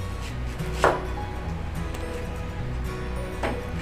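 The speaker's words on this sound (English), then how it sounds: "now we're going to cut it in half from top to bottom" A knife cuts an onion in half on a cutting board, giving two distinct crisp chops about two and a half seconds apart over a steady low background hum.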